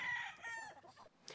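A young stag gamecock on a game farm gives a brief, close cluck or short crow-like call that tapers off, fairly faint, with no talking over it.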